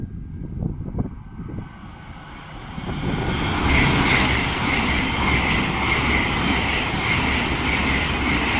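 An Intercity Express train (IET) approaches and passes at speed at Ealing Broadway on the Great Western Main Line, with a rising, steady roar of wheels and motors that builds after a few seconds and holds loud to the end.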